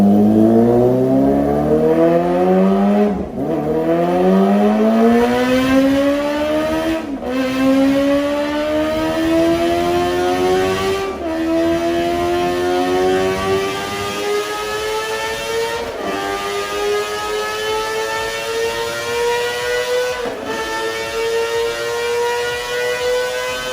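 Kawasaki Ninja ZX25R fitted with an R9 M2 titanium exhaust, revving hard through repeated rising shrieks, each climbing high before a brief gear-change dip, loud and close with no talk.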